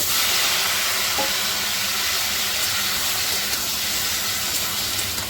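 Boiled potatoes hit hot oil tempered with radhuni seeds and green chili for a Bengali aloo chorchori, giving a steady, loud, close sizzle and hiss throughout with no voices.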